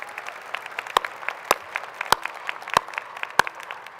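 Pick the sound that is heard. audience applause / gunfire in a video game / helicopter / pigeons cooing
audience applause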